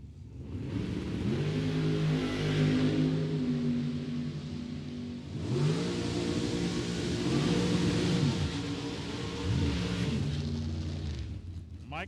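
Drag racing run of a 1962 Chevy II and a 1969 Camaro, loud engines roaring and revving in long swelling pulls, with rising and falling harmonic sweeps and commentary voices faintly underneath.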